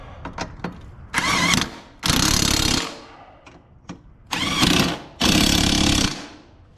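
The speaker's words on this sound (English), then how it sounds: "Then take my impact tool." A battery-powered impact tool works on the blade bolts of a push mower: a few quick ratcheting clicks, then four loud bursts of rapid hammering, each lasting about a second, up close.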